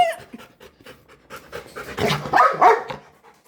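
A dog panting hard and quickly, rising to a few breathy, whimpering barks near the end, heard close up with little else around.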